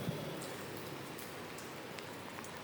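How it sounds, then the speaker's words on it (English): Steady, dense rain pours down on a street in Saigon, a continuous even hiss of drops striking the pavement with no voices. "the rain's getting worse"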